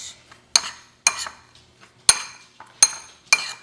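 Sharp metallic clinks of a utensil striking a bowl while mixing a dry rub with Korean red chili powder, five or six distinct knocks at an uneven rhythm, close and clear with no voices.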